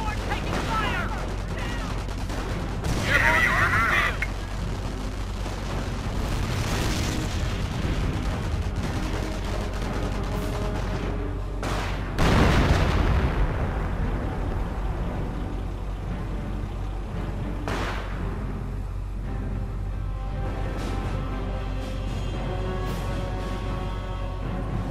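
Artillery shells and small-arms gunfire bombard a forward emplacement in the World War II strategy game Company of Heroes, with heavy booms standing out against a steady rumble of battle while voices talk over it.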